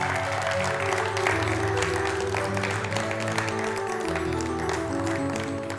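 A studio audience claps steadily on a television talk show, a dense, even wash of applause that continues throughout.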